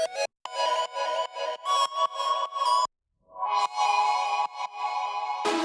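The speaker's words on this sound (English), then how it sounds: "it's called Celeste because it kind of sounds like Celeste." A bell-like, celeste-style synth in a hardwave track plays a melody of short, bright repeated notes, then a longer swelling phrase after a brief gap, clean and fairly soft.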